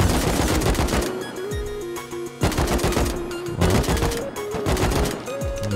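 Loud rapid gunfire in the Rust video game, aimed at a minicopter: dense automatic bursts crackle in clusters with brief gaps, and tonal engine or music drones sound underneath.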